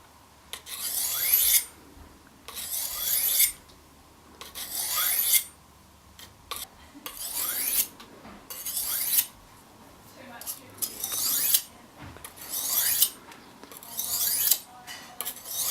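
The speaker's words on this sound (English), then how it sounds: "you just want to act like you're taking a slice out of your what do you call it, your stone" A knife blade is drawn across a whetstone in long, rasping slicing strokes, about eight evenly spaced passes with short pauses between them, close and clear with no talking.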